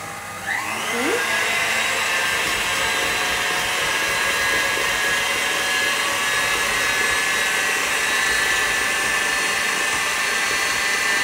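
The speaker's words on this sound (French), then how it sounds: "Donc voilà, le fouet." An electric whisk beats a light dessert mixture in a kitchen, giving a steady, close, continuous motor whir that holds at an even level throughout with no talking.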